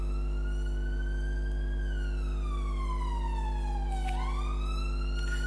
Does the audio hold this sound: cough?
no